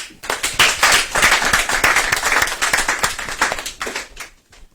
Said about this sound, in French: Ça vaut des applaudissements.